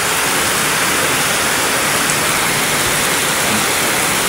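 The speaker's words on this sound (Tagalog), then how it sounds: "talagang grabe yung lakas ng ulan na to" Heavy rain pours down steadily on a street in Tondo, a dense, loud, continuous hiss of water with no letup.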